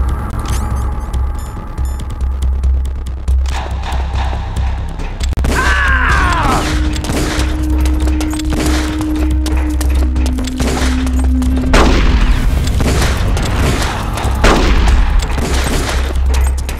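Revolver shots fired in the GameCube game Metal Gear Solid: The Twin Snakes: several sharp, separate cracks spread over the stretch, set against a steady low game rumble and a sustained tone in the middle.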